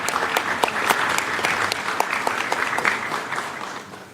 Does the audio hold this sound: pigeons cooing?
no